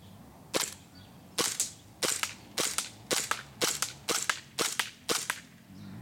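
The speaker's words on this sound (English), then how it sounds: "Took me 2 shots to get it on center for the target" About a dozen sharp, snappy shots from a WE P08 Luger gas blowback airsoft pistol fired at a target, coming singly and in quick pairs at an uneven pace, close and crisp with no voice.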